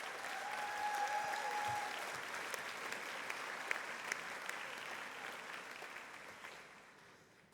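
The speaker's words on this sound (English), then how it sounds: "A round of applause for everyone who participated in GPS" Audience applause at a university commencement ceremony, a broad sustained round of clapping from a large crowd with a few whistles early on, gradually fading out toward the end.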